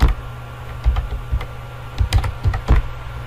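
Password typed on a computer keyboard, keys tapping in quick irregular bursts, close and clear with no talk.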